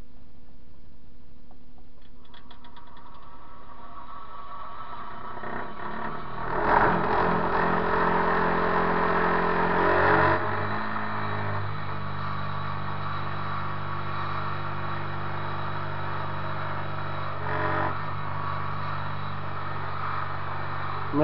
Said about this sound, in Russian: Включил частотник, сейчас запускаем двигатель.